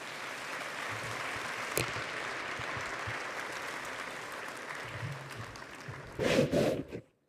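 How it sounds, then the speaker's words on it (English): An audience gives steady, moderately distant applause for the panelists at an AI summit session, with a brief louder burst of voices and clapping before it fades out. "I think another warm round of applause for our excellent panelists"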